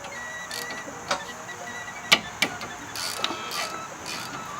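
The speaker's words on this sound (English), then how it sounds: "I'm going to take out the bottom first, using the 14 millimeter socket and a ratchet" A 14 mm socket on a ratchet works a brake caliper bolt during a brake pad and rotor job, with a few sharp metallic clicks and clacks spaced out over a quiet mechanical background.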